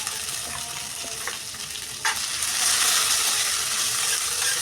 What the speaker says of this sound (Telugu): వీటన్నిటిని బాగా కలిపి వేయించుకోవాలి.